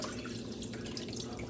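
Tap water runs steadily into a kitchen sink while vegetables are rinsed, a continuous splashing flow with light dripping, heard alone with no talking.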